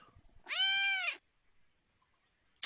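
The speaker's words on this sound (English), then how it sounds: "Nothing in here but a cat." Cat meowing as a radio drama sound effect, a single loud, drawn-out meow up close, followed by quiet and a brief sound at the end.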